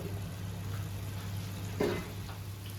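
Prawn sukka masala, Mangalorean style, being stirred in a pan: a soft, low sizzle with a low steady hum beneath and a couple of brief scraping stirs, faint and close.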